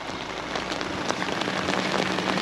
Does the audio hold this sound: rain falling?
yes